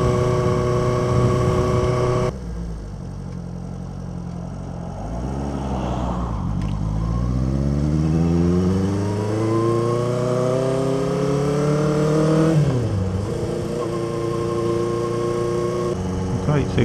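A small old 400cc classic motorcycle engine while riding, a steady close drone that rises and falls in pitch through gear changes, with wind rush and someone talking over it.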